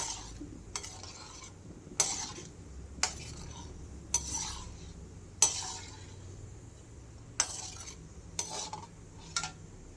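Asafoetida (hing) frying in a pan, a faint sizzle under repeated sharp metallic scrapes and clinks of a spoon stirring against the pan, about once a second, close by.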